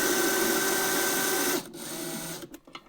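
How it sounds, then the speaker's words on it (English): An electric drill driver runs steadily and close while driving screws into a speaker cabinet, its whine cutting off after about a second and a half. Brief handling clicks and softer bursts follow. "I one by one go most of the way in with the electric drill driver"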